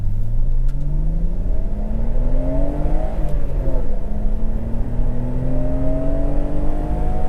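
A 1990 Nissan R32 Skyline GT-R Nismo accelerates hard in second gear, its engine note loud and close and rising steadily in pitch, with a brief dip near the middle before climbing again, with no voices over it.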